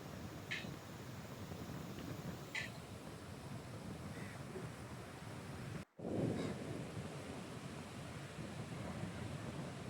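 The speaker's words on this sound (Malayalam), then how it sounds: "അത് കടൽ അടിച്ച് ഇങ്ങനെ വരുന്നതാണ്" Sea waves surge and crash onto the shore at a beach spot during a rough, high-sea period, producing a steady broadband roar with a few brief hissing bursts, heard distantly and continuously with no voices.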